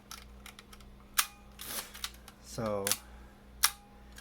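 Nikon FE 35mm film camera shutter firing in B mode, a few sharp mechanical clicks and one longer whirring snap spaced across a quiet room, with a brief spoken word.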